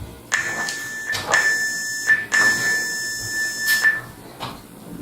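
A series of electronic workout timer beeps, long steady tones alternating with short ones, ringing out clearly over faint background noise.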